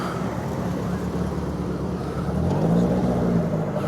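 A Subaru Impreza passes through a car meet, its engine a steady mid-low rumble that swells slightly as it goes by, blended with general crowd and traffic noise.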